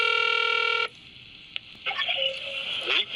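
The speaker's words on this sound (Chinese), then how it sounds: "打电话给吴志成拢无回应" Rapid series of telephone keypad dial tones pressed in quick succession, loud and close, stopping abruptly before faint room noise and a brief muffled sound follow.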